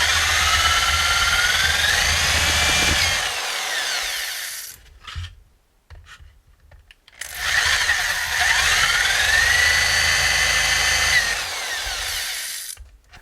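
Power drill fitted with a 3/8 bit boring holes through a metal can, two long loud whining runs with rising and falling pitch, separated by a brief pause of quieter handling.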